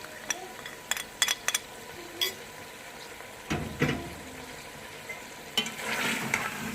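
Chicken frying in a pot for white chicken korma, a steady low sizzle with scattered clinks and scrapes of stirring, quiet and close, with no talk.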